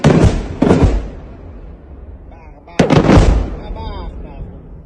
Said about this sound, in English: Moments of Russian airstrikes recorded by Ukrainian armed forces soldiers.